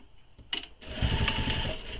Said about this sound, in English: And then again, top stitch this.